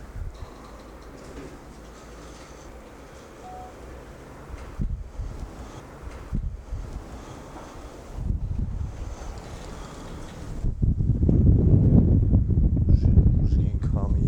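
Strong wind gusting outdoors at night, a rough low roar that swells and drops in bursts before building into a loud, sustained buffeting near the microphone in the final seconds, with faint voices in places.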